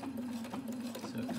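A Viking Husqvarna Quilt Designer sewing machine stitches a zigzag pattern in a fast, steady mechanical whir with rapid needle rhythm, quiet and close, with no talk.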